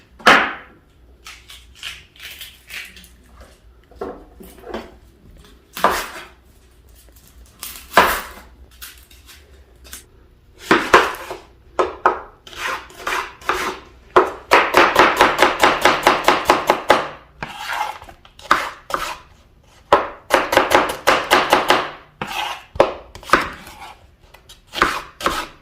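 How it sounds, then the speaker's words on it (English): Onion is chopped with a knife on a board, with crisp single cuts early on that build into fast, rhythmic bursts of rapid chopping. The strokes are close and loud, with pauses in between and no talking. "We cut the onion too"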